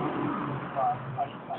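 A tuned motorcycle with an aftermarket muffler, among bikes such as a Suzuki GSX1300R Hayabusa, GSX750R bored to 1100 and Yamaha XJR1300, revs with a low rumbling exhaust that swells briefly, heard at moderate distance amid background noise.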